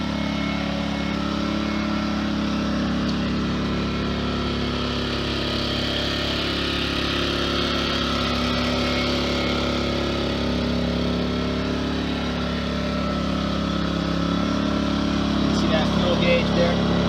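An Amico AIG2000 2000W inverter generator runs steadily at full throttle, a continuous, even engine hum heard close up without break, while someone speaks over it.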